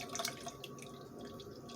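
Hinterland Luna coffee stout beer poured from a can into a plastic skull cup, a steady near splashing and gurgling stream of liquid that runs continuously without a break.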